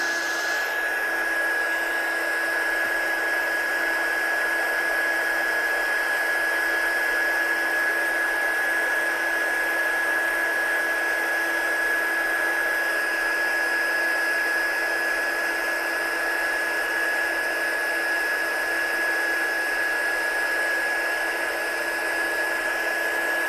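A heat gun blows steadily to heat-set gold embossing powder, producing a loud, unbroken fan whoosh with a high motor whine that runs without pause and without any talk.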